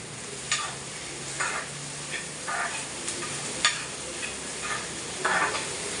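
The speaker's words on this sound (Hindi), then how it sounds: "भाजी भी गर्म कर रही हूँ" Soft stirring and scraping in a pan of reheating vegetable curry with light sizzling, a series of short utensil strokes at irregular intervals.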